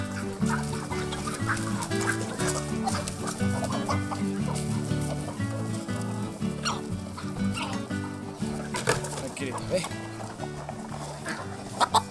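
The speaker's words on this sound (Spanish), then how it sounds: "darle de comer a las gallinas" Chickens clucking while hens are fed grain at a farm in Futrono, Chile, with steady fowl calls throughout, partly under background music and someone talking.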